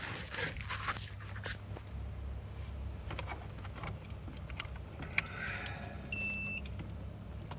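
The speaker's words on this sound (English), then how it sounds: "so you hear that beep, means it's got power" A short electronic power-on beep from an Eonon GA5153V car stereo, with two brief tones, sounds amid light handling noises and faint rustling in a quiet space.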